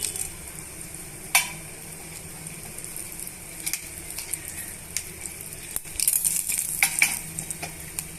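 Mustard seeds, cumin, chana dal and dry red chilies fry in hot oil with a steady low sizzle, while a spoon stirs and scrapes the pan now and then, with sharper clinks near the start and end.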